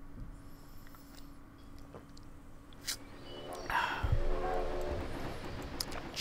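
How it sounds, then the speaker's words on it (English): A train arrives in the farming game Hay Day, a cartoon rail rumble swelling midway with a brief whistle-like tone over a steady background music bed. "Train is coming in."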